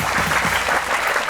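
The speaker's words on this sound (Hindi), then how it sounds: "तालियां होनी चाहिए" A TV studio audience claps steadily and warmly for a second or so, a full crowd applauding without any talking.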